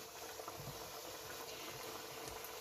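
Chin chin dough pieces bubble and fry in hot oil in a pot, a steady dense crackling hiss with soft irregular popping, close and continuous with no talking.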